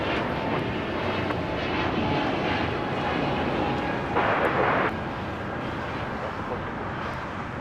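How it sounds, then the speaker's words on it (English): A Delta Airlines Airbus A321neo arrives at Los Angeles International Airport from Minneapolis, its engines a steady, strong roar close by, with a brief louder hissing surge midway and no voices. "Delta Airlines flight 1447 coming in from Minneapolis, an A321 Neo"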